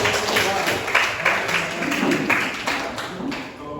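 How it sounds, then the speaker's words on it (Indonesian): An audience in a school classroom applauding after a lesson demonstration: a dense, steady wash of clapping from a group, fairly loud and continuous for the whole stretch, with faint voices mixed in. "Berikan tepuk tangan untuk"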